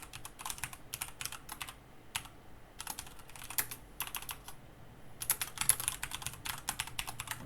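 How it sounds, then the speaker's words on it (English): A computer keyboard clatters in quick bursts of typing separated by short pauses, the keystrokes close and crisp with no talking. "My typing is on point here."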